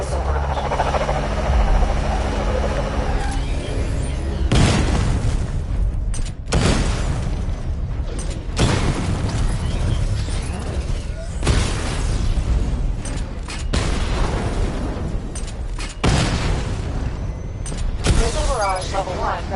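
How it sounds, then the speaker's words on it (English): In the Batman Arkham Knight video game, a missile barrage destroys targets. Heavy booming explosions land every couple of seconds over a constant mechanical engine drone, loud and dense throughout. "Destroy targets to charge up weapon energy and activate missile barrage."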